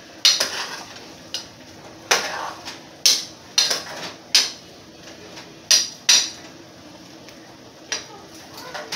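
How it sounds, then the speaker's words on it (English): Cabbage stirred in a pot on a stove, a utensil knocking and scraping against the pot in sharp, irregular clanks close by over a faint background hiss. "So I'm stirring up the cabbage."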